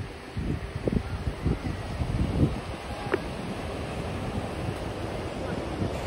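Sea waves roll onto the beach at Old Digha, a steady rushing surf mixed with wind buffeting the microphone, fairly close and continuous.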